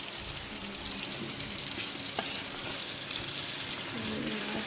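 Seer fish (vanjaram) frying in a pan gives off a steady, quiet sizzle with soft crackles and one brief sharper pop partway through, and no voices.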